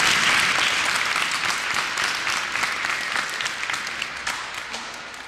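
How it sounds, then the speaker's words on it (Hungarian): An audience at a local Pécsvárad football cup event applauds the cup's patron, a sustained crowd of clapping hands that starts strong and slowly thins out over about five seconds. "Egy kis tapsot kérek meg"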